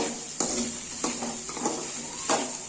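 Onions frying in a pan for egg burji, a steady close sizzle broken by a few clinks and scrapes of a spoon stirring against the pan.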